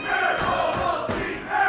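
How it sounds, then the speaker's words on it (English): Wrestling crowd at an independent match chanting in unison, a loud rhythmic wall of voices rising in repeated bursts, close and filling the space. "he has Ovaltine chants"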